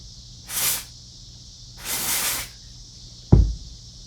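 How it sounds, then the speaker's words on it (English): Contact cleaner is sprayed onto the pins of new vacuum tubes for a vintage Fender amp in two short hissing bursts, close and crisp, followed by a single sharp knock. "I'm just going to hit the pins on the new tubes here with a little contact cleaner"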